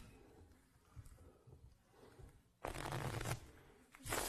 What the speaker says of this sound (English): Nick, give them a shuffle for me.